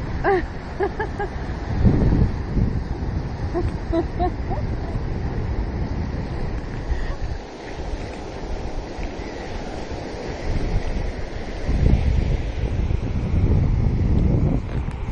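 Ocean waves rolling in with the incoming tide on a busy surf beach, with steady wind buffeting the microphone throughout and faint voices in the background.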